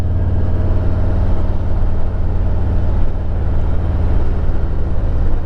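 A Harley-Davidson motorcycle cruises on a Sunday morning ride, its engine a steady, loud low rumble with constant road and wind noise and no voices.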